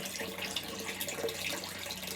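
Water gushes strongly from an open pipe after the faucet is removed, a steady hissing rush with faint splashing, moderately quiet and continuous, with no voices.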